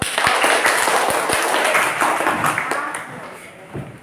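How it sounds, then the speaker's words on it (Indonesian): Elementary school pupils in a classroom clap for a student group: brisk, close clapping with sharp individual claps standing out, fading toward the end while voices talk over it. "Tepuk tangan buat kelompok."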